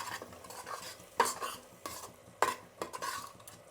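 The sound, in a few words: stirring tomato bath with peas and curd in a pot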